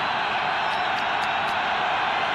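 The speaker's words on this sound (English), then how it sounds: "The crowd reacts." A huge crowd roars at a 1997 NFL game between the Oakland Raiders and the Kansas City Chiefs in Kansas City as the Raiders go for it on fourth down, a steady, loud, distant stadium wash with no talk over it.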